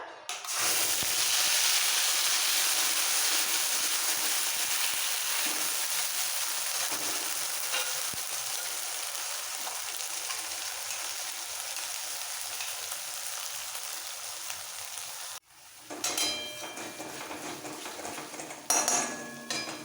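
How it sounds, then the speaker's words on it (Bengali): Nigella seeds stirred through hot oil in a pan, a continuous frying hiss with occasional utensil scrapes and clinks, fairly close, then a brief quieter gap before the stirring and sizzle resume near the end. "কালো জিরেটা একটু তেলের মধ্যে নাড়াচাড়া করে দিয়ে দেবো"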